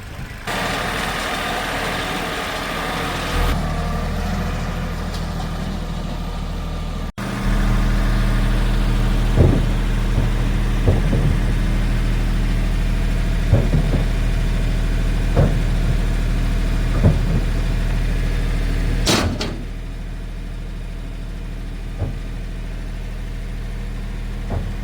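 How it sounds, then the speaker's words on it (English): A farm tractor engine idles steadily as it warms up, a continuous low diesel rumble with a few short clanks and knocks over the middle stretch and a sharper burst near the end. "So I got my tractor out, it's getting warmed up"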